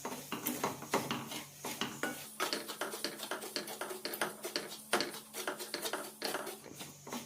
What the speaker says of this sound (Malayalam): നെയ്യിലിട്ട് ഒന്നുകൂടി ഒന്ന് വറുത്തെടുക്കണം